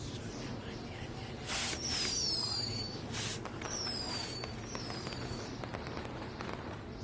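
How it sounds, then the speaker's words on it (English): Fireworks go off at a distance with thin rising whistles and several soft, crackling bursts against a quiet background. "we'll get to see some cool fireworks"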